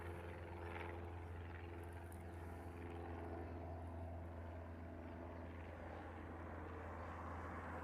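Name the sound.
Boeing 747 jet airliner taxiing at Honolulu airport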